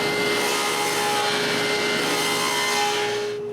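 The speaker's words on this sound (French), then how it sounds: "Je déplace donc le guide et je coupe la rainure plus large." A saw, guided along a fence, cuts a wider groove in wood to fit a piece of plexiglass, giving a continuous loud whirring roar with a steady tonal hum that tails off at the end.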